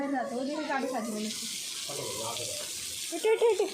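Water rushes steadily from a hose under strong pressure while a rooftop is being washed, a continuous hiss with voices talking over it and a few louder splashing bursts near the end.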